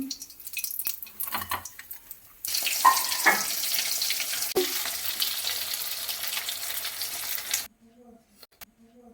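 Rohu fish kofta balls deep-frying in hot oil give off a steady, fairly loud sizzling hiss for several seconds, then it cuts off abruptly into near silence with faint clatter.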